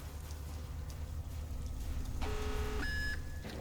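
Under a constant low rumble, a tonal electronic alarm in Call of Duty: Black Ops starts partway through, a sustained beeping tone that shifts pitch higher near the end.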